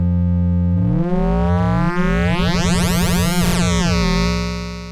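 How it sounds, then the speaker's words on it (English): Buzzy Roland GAIA 2 synthesizer tones using cross modulation, harmonics sweeping up and down against each other, creating a warbling, metallic, discordant texture that swells and then fades. "So we've got cross modulation over here, which is always a lot of fun."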